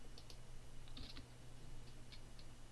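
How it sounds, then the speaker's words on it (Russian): Quiet keypresses on a computer keyboard while editing video in Sony Vegas: a few light, scattered clicks in a soft, steady room hum. "Это нажать кнопку V на клавиатуре."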